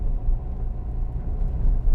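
A manual-transmission car accelerating from inside the cabin, a low steady engine rumble that swells and dips slightly, close and even, with no talk.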